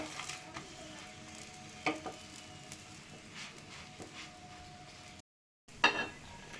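A mung dal chilla fries in butter in a pan, a soft steady sizzle with faint crackles and a few spatula scrapes, quiet and close, with a brief dropout near the end.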